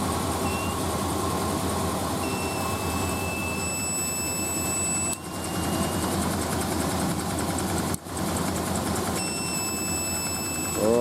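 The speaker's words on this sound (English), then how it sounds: "And it's squealing, which means that it's too much of a power draw" A power inverter overloaded by too much power draw gives off a thin, high, steady squeal that lasts almost the whole time. It sits over a loud engine-like drone, and the sound cuts out briefly twice.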